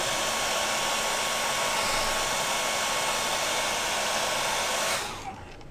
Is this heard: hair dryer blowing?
yes